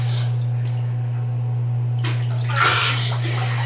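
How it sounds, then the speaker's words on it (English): Splashing in cold water outdoors, a low steady hum carrying a bright burst of sloshing and splashing in the second half, with faint light movement before it. "Ah, you're splashing me."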